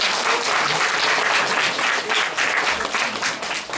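A room of attendees at a Korean church school teachers' training seminar breaks into loud, dense applause that holds steady for several seconds and tapers slightly at the end, with no voices over it.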